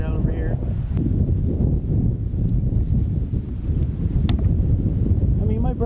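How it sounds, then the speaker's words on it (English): Strong gusty wind of around 20 mph in a backyard near a burn pile, buffeting the microphone as a loud continuous rumble, with a voice briefly heard at the start and end. "It's windy as shit"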